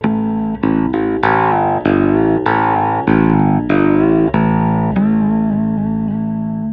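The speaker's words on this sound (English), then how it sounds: "But I can also get cool overtones mixed with the bass sound." Bass guitar played with harmonics and ringing overtones through an effects unit with distortion, about nine plucked notes in steady succession, loud and close with no talking.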